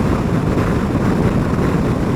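Heavy wind roar buffeting the rider of a 2023 Harley-Davidson CVO motorcycle at 80 mph on a windy day, a loud continuous low rumble with no speech.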